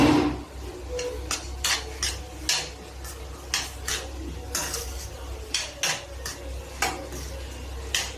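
A spoon scrapes and clinks against a pan while salt is stirred into spring roll filling, sharp irregular taps repeating steadily over a low kitchen hum with no talk.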